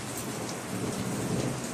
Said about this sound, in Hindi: ये थंडर स्टॉर्म की आवाज़ आप सुन रहे होंगे